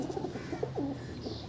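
Delhi-breed pigeons kept for sale coo softly nearby, a few low throaty rolling calls in quick succession against quiet background noise.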